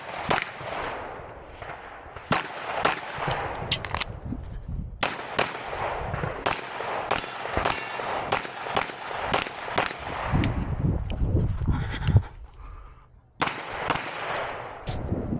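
Rapid pistol gunfire during a USPSA Limited Optics shooting stage at a local match, sharp close shots in quick strings and pairs with brief pauses, steady through the whole stretch.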